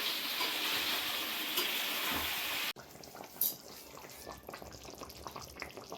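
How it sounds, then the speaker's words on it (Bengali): Duck meat curry simmering in a wok on a village stove, with watery bubbling and stirring that is steady at first, then a sharp cut to quieter, scattered clinks and splashes close by. "তোমার মাংসের ঝোল ফুটে গেছে"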